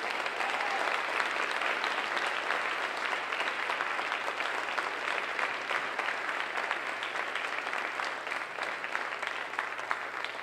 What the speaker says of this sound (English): Let's stand and applaud these ladies who've been so courageous for so long.